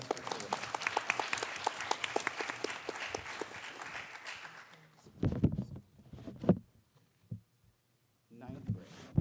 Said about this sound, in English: A round of applause for Carissa.